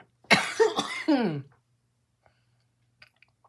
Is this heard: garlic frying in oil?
no